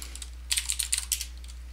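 Rapid keystrokes on a computer keyboard while entering a terminal command on an Ubuntu machine, a short burst of close, crisp clicks over a steady low hum.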